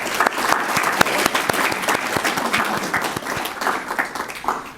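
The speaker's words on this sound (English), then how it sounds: "Let's give them another round of applause." An audience at a Columbus Metropolitan Club forum on education gives a round of applause to the panel speakers, dense steady clapping filling the room from start to finish with a few sharper claps standing out.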